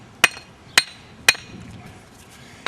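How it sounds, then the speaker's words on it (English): A brick hammer taps a brick to split it during a brick mailbox build, giving three sharp, close, ringing strikes about half a second apart, then a fourth after a pause, with no talk. "Then I take the brick hammer"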